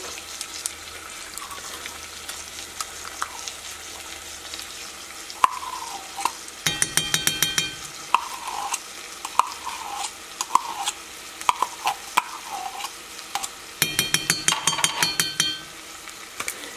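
Onions, garlic and tomato paste cook in olive oil with a soft, quiet sizzle, broken by bursts of scraping and stirring against the pan.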